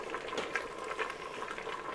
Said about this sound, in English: And now we have our third rolling boil, so we're going to let that boil for another 10 minutes.